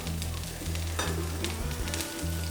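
Ghee dosa sizzles steadily in an EVOCHEF EC Flip dosa machine, a loud, even crackling hiss over a low humming backdrop, with no talk.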